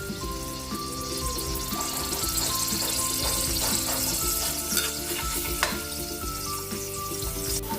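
Garlic sautéing in hot oil for adobong sitaw, a loud, dense, continuous sizzle close up, with occasional spatters and utensil scrapes and no talk.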